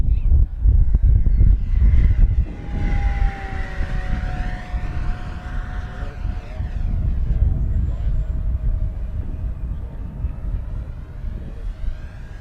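An FMS P-51 Mustang racer RC model airplane flies overhead, its electric motor and propeller making a steady whine that drifts in pitch as it passes and fades, heard over wind buffeting the microphone.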